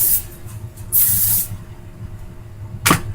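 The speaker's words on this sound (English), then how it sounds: "hairspray" Hairspray from an aerosol can hisses in a few short close bursts over curled hair, with a quiet room between sprays.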